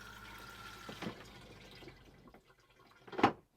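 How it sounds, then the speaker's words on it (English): Cassette toilet in a Mobilvetta K-Yacht 80 motorhome flushing, a short rush of running water that fades out, then a splashy gurgle near the end, close and fairly quiet. "use your toilet, do your business, flush"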